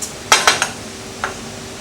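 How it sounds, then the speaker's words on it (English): Whisk or spoon clinking against a pan while a blonde roux of flour and butter cooks for a blanquette stew, three quick metallic scrapes close together and one more a moment later, with a faint background hiss. "what I'm preparing now is a blonde roux"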